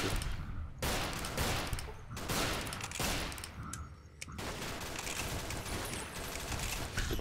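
Rapid gunfire from a small gun in the video game Fallout New Vegas, a series of dense bursts of shots in quick succession, loud and close with no talking.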